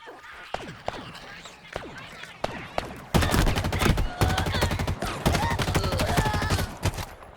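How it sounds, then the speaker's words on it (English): Assault rifle fire in Halo Infinite starts as scattered single shots under a voice, then turns into sustained, loud rapid bursts that fill the rest of the stretch. "I love that assault rifle sound."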